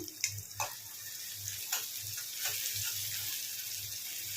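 Onions with curry leaves and green chillies fry in a pan, giving a steady close sizzle with a few sharp pops and crackles near the start, with no voices.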